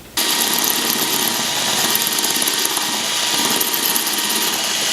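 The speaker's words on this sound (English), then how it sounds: "Do you really think that tiny drill's gonna do what you needed to do?" A small power drill boring into a wall whirs loudly and steadily after a sudden start, its high motor whine holding constant throughout.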